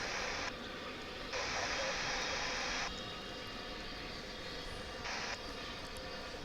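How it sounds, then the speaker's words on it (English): A five-year-old Boeing 787-9 airliner arriving from Sao Paulo rolls out after landing, a steady, distant jet-engine roar and hiss with a few swells in loudness. "That is the finale of a 9-hour and 21-minute flight aboard that 5-year-old 787-9 from Sao Paulo."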